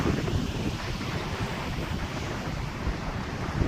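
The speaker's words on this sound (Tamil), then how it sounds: "கடல், கன்னியாகுமரி கடலை பார்த்துக்கோங்க." Sea waves at Kanyakumari surge and wash in a steady roar, with strong wind buffeting the microphone close up.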